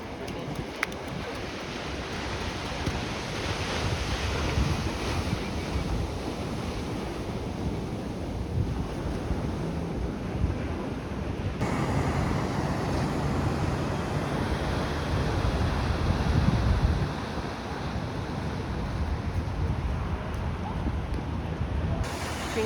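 Ocean waves break and wash in continuously during king tides at Malibu, a loud, rough surf roar with heavy wind buffeting the microphone throughout.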